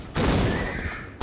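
Shotgun fire in the 1996 Tomb Raider game, a single punchy blast with a short ringing decay against a quiet background.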